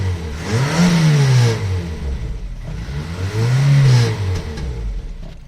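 Renault 19 engine revving twice in close succession, each rev climbing and then dropping back to a steady idle, loud and near with no talking.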